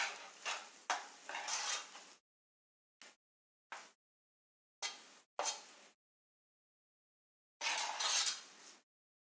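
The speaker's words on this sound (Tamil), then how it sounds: "நல்லா கிண்டி விட்டுருங்க." A spoon scrapes and stirs almond kesari in a metal pan, coming in short separate bursts with silent pauses between them. The last stroke is a longer scrape.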